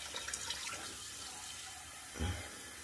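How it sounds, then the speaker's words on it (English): Hot water runs from a tap during a shave with Taylor of Old Bond Street Jermyn Street cream, a faint steady faucet hiss with a brief louder splash near the end. "let's get some nice hotter water too."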